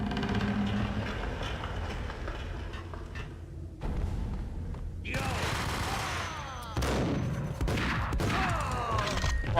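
Shotgun blasts in Max Payne, with several loud, close reports cutting through dense game noise. Between the shots come scattered bursts of clatter and tonal effects.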